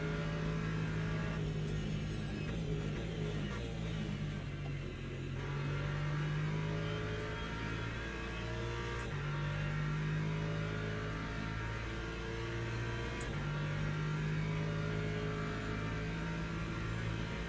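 Race car engine in Le Mans Ultimate at Monza, a steady loud drone with rising and falling revs through gear changes, heard from the cockpit with no talk.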